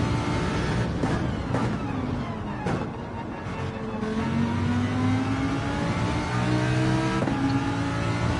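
A race car engine in a racing video game winds up under acceleration after a gear change, its pitch climbing steadily and loudly, with a few sharp shift blips early on before a sustained rising whine.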